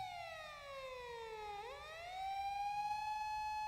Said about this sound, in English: Plane going over and like an air raid siren or something.